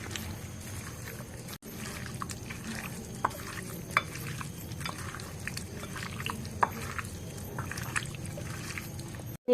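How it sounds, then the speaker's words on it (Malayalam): Spice masala with turmeric and pepper powder being stirred into chicken curry in a pan: a steady scraping and shuffling with light sizzle, repeated soft stirring strokes at close range, no talk. "മസാല മഞ്ഞൾപ്പൊടി കുറച്ച് കുരുമുളക് പൊടി എല്ലാം കൂടെ നന്നായിട്ട് മിക്സ് ചെയ്തെടുക്കാം"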